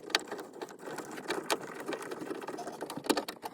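A small trim screw is run into the shifter trim of a 2007-2013 Silverado/Sierra truck, giving a faint, steady buzzing whir from a driver with a few light clicks, close by and quiet.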